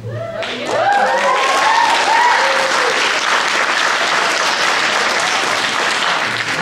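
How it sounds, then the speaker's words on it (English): An audience applauds at a congressional debate held in a high school hall, loud steady clapping from a large crowd that starts abruptly and continues without letup, with a few faint cheers near the start. "hold your applause"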